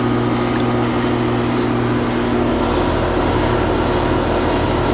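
A 2009 Carrier Comfort Series 4-ton central air conditioner outdoor unit running on R410A refrigerant, with a loud steady compressor hum and fan whir, slightly rattly, close by and constant with no talk.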